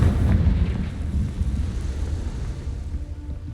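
The Confringo explosion spell in Hogwarts Legacy goes off as a loud, deep, rumbling blast that rolls on and slowly fades over a few seconds, with no talking over it.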